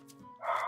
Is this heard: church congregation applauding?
no